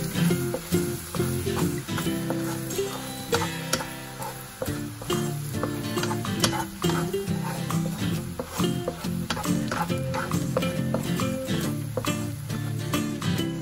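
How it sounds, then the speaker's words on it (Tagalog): Garlic sizzles in melted butter in a pan for a seafood mix, a steady crackling fry broken by busy scraping and stirring clatter throughout. "Pagtunaw na ang ating butter, ilagay natin ang ating bawang."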